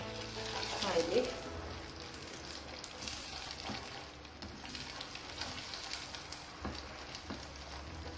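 Butter sizzles in a pan of thick homemade caramel sauce of melted sugar, a steady soft crackle running throughout at moderate level with faint stirring scrapes and no talking.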